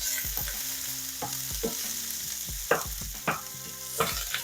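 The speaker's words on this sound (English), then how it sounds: "We're going to give them a quick mixing so they all have some nice coverage" Half an onion stirred in butter and olive oil in a pan, a steady sizzle punctuated by repeated thuds and scrapes of the spoon, close and loud, with no talking.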